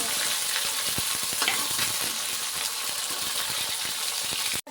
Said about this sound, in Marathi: आणि आता टाकायचं आपल्याला हिरव्या मिरच्या जे आपण कापून घेतलेले होते.